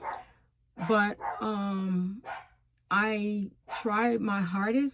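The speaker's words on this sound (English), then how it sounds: "Excuse the dogs, they are barking in the background." Several household dogs bark and yip in short bursts behind someone speaking, the barking loud and clustered in the gaps and overlapping his voice.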